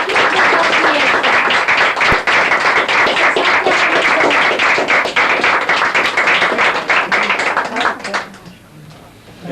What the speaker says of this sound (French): je pense qu'on peut remercier M. Abbassi et l'applaudir